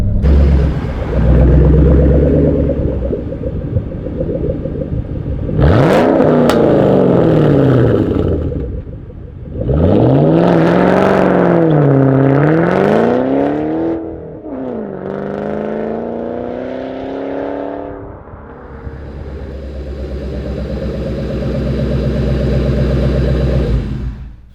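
A Shelby GT500 with its 5.4 V8 rumbles loudly while driving, revving in several rising and falling pulls with gear changes between, the engine close and alone without any talk.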